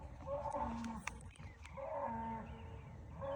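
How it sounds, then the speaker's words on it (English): A donkey brays in two long, drawn-out, wavering calls, fairly faint and somewhat distant over low background noise. "The donkey going crazy."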